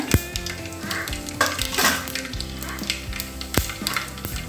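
Mustard seeds and cumin tempering in hot oil for South Indian sambar, a steady sizzle with scattered pops, crackles and a few metallic utensil clinks; no talk.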